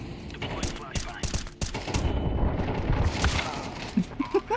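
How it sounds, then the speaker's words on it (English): During a shooter video game match, a flashbang grenade goes off in the middle of a firefight. Sharp gunshots crack first, then a heavy blast rumbles on for a while. People talk over the noise. "Deploying flashbang"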